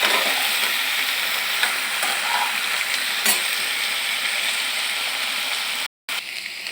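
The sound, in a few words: pointed gourd frying with turmeric and salt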